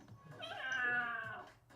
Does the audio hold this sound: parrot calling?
no